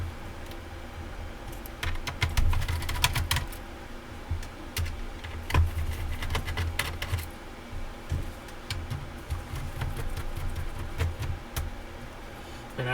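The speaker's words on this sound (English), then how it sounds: "So I'll remove all 3 of those screws." Screws are being removed from a Dell Inspiron 3452 laptop, making clusters of small close clicks and ticks from the screwdriver and plastic, in irregular bursts over a quiet background.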